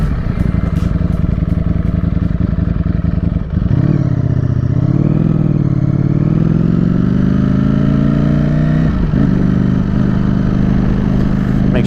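Ducati Streetfighter V4 motorcycle cruising along a coastal road during break-in, its engine droning loud and steady close by, dipping briefly around a gear change before settling back into a sustained mid-rev hum.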